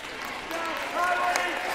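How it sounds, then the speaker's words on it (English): Crowd applause in a gym during a high school girls' basketball game as a player fouls out, a steady moderate clapping that swells midway, with a commentator talking over it. "Kylie gets a round of applause as she fouls out."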